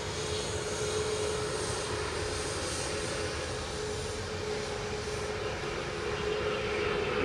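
A Ryanair Boeing 737 Max 8 jet climbing away after takeoff at Manchester Airport, a steady broad engine roar holding loud and even throughout, with a faint sustained whine above it.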